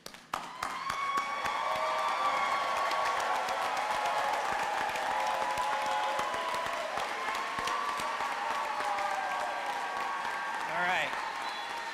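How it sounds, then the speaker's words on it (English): A large commencement crowd applauds and cheers the graduates, dense sustained clapping with shouts and whoops rising from the audience, loud and continuous, with voices calling out over it. "everyone stand and let's cheer on the graduates now"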